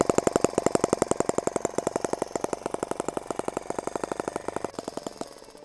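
A miniature model engine runs close by with a rapid, even popping beat, loud and steady for several seconds before it sputters and cuts out near the end.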